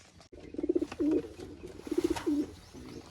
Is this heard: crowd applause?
no